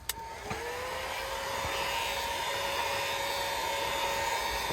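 A heat gun blows on the adhesive of a car footwell lighting strip, a steady close whooshing blower roar with a rising whine as it spins up after a click, continuous throughout.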